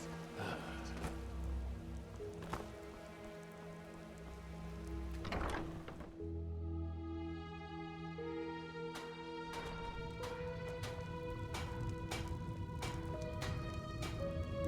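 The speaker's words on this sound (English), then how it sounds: "Ah, it started raining." Rain falling in the Enderal video game, a steady wash of patter under game ambience, with several sharp clicks and knocks and a shift in the background tone partway through; no speech.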